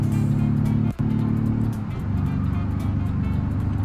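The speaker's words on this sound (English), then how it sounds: "Oh, wheel slip, wheel spin." A Fiat-like car's engine drones steadily in the BeamNG.drive driving game, with a brief dropout partway through before the low, continuous hum resumes as the wheels lose grip.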